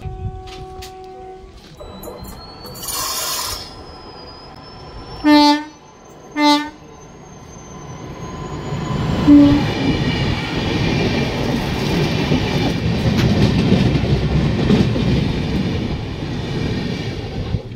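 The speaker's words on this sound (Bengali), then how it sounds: "ফ্রেন্ডস, ট্রেন কেন ধীরে চলছে বুঝতে পারছি এবার।" A chair car train running slowly on track under repair work, with a rumbling wheel noise building over time, a rising whine, and two short horn blasts partway through.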